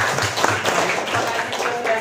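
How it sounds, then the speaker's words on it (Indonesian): A classroom of students claps on cue from the teacher during an Indonesian language lesson, a brief burst of dense hand clapping up close with some voices mixed in. "Ya, tepuk tangan dulu dong."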